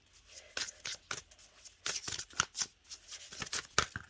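A deck of cards is shuffled and a card is pulled, giving soft riffling flutters and sharp papery snaps in irregular bursts, close and fairly quiet.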